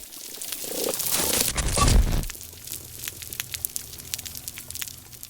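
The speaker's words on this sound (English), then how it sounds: "And that is the sound of the ecosystem in distress." Underwater sound from a distressed coral reef, opening with a rough rumbling, crinkling burst for about two seconds that cuts off into sparse, faint clicks over a quiet low hum.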